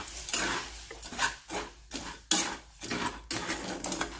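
Chickpeas stirred in salt in a hot pan at medium heat, rhythmic scraping and rattling strokes, each a gritty swish of grains and salt, repeating roughly every half second, close and clear with no talking.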